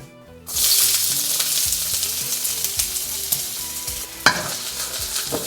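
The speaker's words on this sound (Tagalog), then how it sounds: "Magpainit ulit kayong mantika. Tapos, igisa nyo na tong ginger and shallot." Ginger and shallot hit hot oil, a sudden loud sizzle after a brief quiet start, then a steady close frying hiss with stirring scrapes and one sharper clatter near the end.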